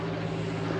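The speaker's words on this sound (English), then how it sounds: "inevitably there's a plane go by when I'm trying to talk" A small airplane passes over a rural Florida campground as a brief, steady droning engine hum at moderate loudness, with no voices.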